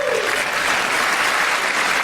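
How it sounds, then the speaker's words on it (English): Sustained applause from a large audience during a presidential speech, a dense, steady wash of clapping that holds at an even, fairly loud level throughout without a break. "Again, the applause"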